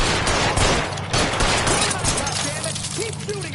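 Sustained gunfire in the video game L.A. Noire, dense overlapping shots forming a continuous fusillade, loud and close, with faint voices and game sounds mixed in.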